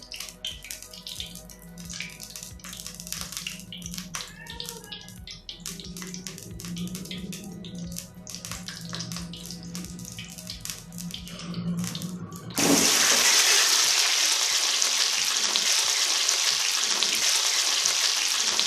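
Egg-coated chicken gola kebabs frying in ghee, a soft bubbling fry at first that abruptly gives way to a loud, steady rushing sizzle, close up with no talk.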